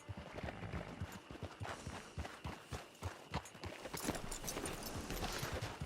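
Horse hooves clip-clop at a walking pace in Red Dead Redemption 2, an even run of soft thuds close by, with no talk over them.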